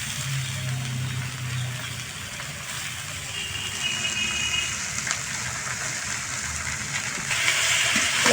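Radish greens with chopped radish hit a pan of frying onions and green chillies, giving a steady hiss and sizzle that carries on throughout with occasional stirring clatter.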